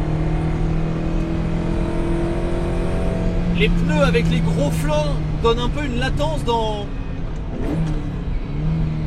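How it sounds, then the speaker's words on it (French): Ferrari 308 GTB engine drone and intake noise while driving, a steady low hum held throughout, with someone talking over it for most of the stretch. "ce bruit d'admission il est extraordinaire"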